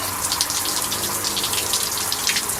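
Water pours and pounds steadily onto a person soaking down to cool off, a dense, close hiss and splatter that never lets up.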